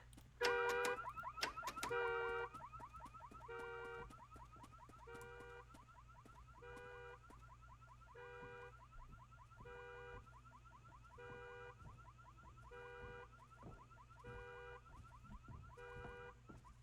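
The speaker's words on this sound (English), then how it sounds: "So the SUVs have alarms." An SUV car alarm in the Northbury Grove horror game blares a steady repeating pattern of pulsed electronic tones, moderately near and alone with no talking.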